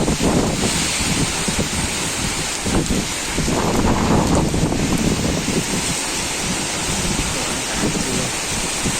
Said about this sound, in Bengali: কী পরিমাণে বৃষ্টি হচ্ছে তোমরা বুঝতেই পারছো।